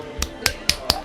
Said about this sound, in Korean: 우리 쌤을 위해 박수 한번.